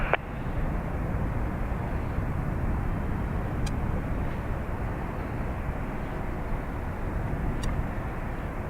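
A Ryanair jet takes off from runway 28 right at Dublin Airport, its engines making a steady, broadband roar that holds at an even level throughout without fading.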